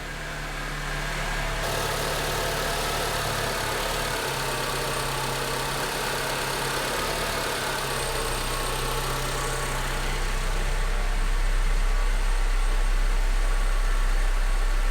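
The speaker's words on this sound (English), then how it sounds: "Let me go start that vehicle up." Steady, loud vehicle engine idling close by, a continuous low rumble with a constant hum and a slight rise in intensity toward the end, no voices.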